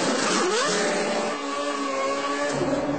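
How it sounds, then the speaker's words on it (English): A GP2 race car leaves the pits at Monza with a little wheel spin, its engine note climbing steadily as it accelerates, loud and continuous over a dense background of track noise. "Little wheel spin there."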